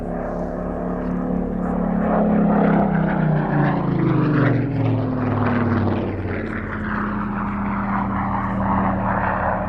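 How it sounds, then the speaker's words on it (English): A World War II propeller aircraft flies past at an air festival, its loud, steady engine drone rising and falling in pitch as it passes. "This is truly a World War II operational aircraft."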